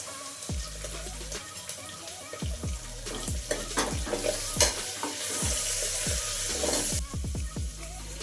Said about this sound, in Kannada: ಇವಾಗ ಒಂದೆರಡು ನಿಮಿಷ ಈರುಳ್ಳಿ ಫ್ರೈ ಆಗಬೇಕು